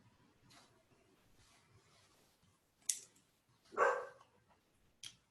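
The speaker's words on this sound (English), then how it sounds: "forgive me if you can hear a dog barking in the background" A dog barks a few times in the background, short sharp yaps spread apart, fairly faint against a quiet room.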